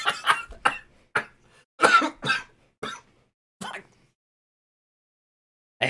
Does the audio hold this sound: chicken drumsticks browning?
no